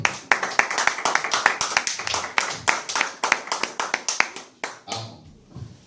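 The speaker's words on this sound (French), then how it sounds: "Acclamons pour le Seigneur." A church congregation claps in praise of the Lord at a French-language service, a brisk, fairly steady run of close, sharp handclaps with some voices underneath that thins out and stops near the end.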